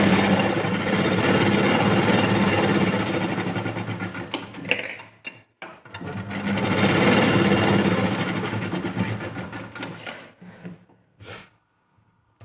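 Two long runs of steady, fast stitching from a sewing machine working on a blouse, loud and close, followed by a few short start-stop bursts and quiet gaps.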